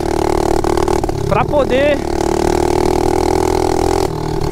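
Mini motorcycle engine running near and steady with a brief rising rev partway through, under a man's speech in Portuguese.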